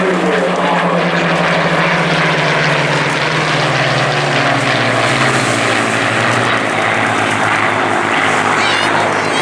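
Battle of Britain Memorial Flight Spitfire warbird flying over an airshow, a loud, sustained propeller engine drone whose pitch gradually falls as it passes, with faint voices beneath.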